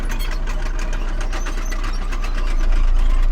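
A farm tractor engine runs steadily in the field, a loud, close, rapid knocking throb that holds its pace and swells slightly toward the end.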